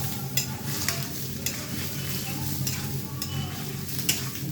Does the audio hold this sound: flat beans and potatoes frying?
yes